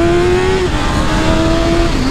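A motorcycle engine revs hard and continuously on a damp road, a loud, close, steady drone with rising and falling pitch that fills the whole stretch.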